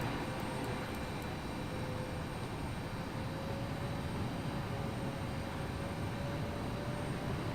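An Embraer E195 in LOT Poland livery takes off in the X-Plane 11 flight simulator, producing a steady, even broadband roar with a thin high whine running through it, constant in loudness from start to finish.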